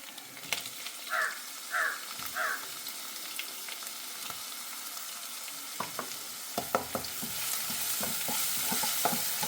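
A paste of ginger, garlic, green chili and shallots fries in a pan with a steady hiss and occasional stirring scrapes, while a few crow caws sound faintly in the background early on.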